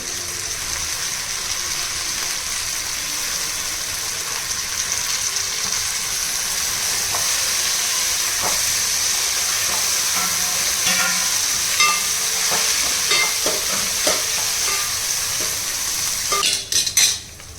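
Washed mint leaves frying in a pan with softened onions for rajma pudina rice: a continuous loud sizzle with scattered clinks and scrapes of a spoon stirring, growing busier toward the end with a few sharp metallic knocks.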